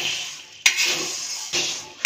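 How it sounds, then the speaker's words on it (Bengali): Spices stirred in a dry wok, a steady gritty scrape of dry spices against the metal, broken by two or three sharp knocks of the spatula against the pan. "এবার এটাকে শুকনো কড়াইতে একটু নেড়ে নেব।"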